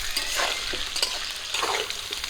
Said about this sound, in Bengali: আলুগুলো লাল করে ভেজে নিয়েছি